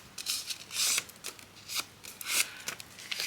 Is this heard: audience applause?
no